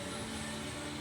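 A compressor running again after repair of a chewed wire, a steady close droning hum with a constant tonal whine and no breaks.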